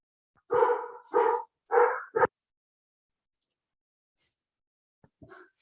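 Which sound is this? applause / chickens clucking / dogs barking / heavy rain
dogs barking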